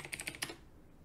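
Quick burst of about five crisp computer keyboard keystrokes, close and fairly quiet, while coding in a terminal, followed by a soft fading tail.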